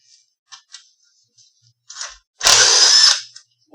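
Power tool, likely an impact driver, zips a bolt out of an engine's front timing cover in a garage: one loud burst of about half a second after a few faint short clicks and taps, close by, with no talking.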